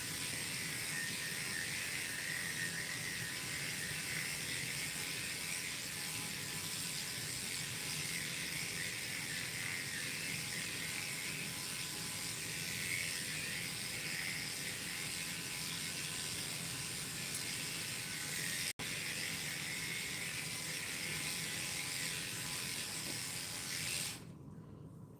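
Dog grooming clippers fitted with a half-inch guard comb, a continuous close buzzing drone held steady for about twenty-five seconds and cutting off at the very end, with no speech.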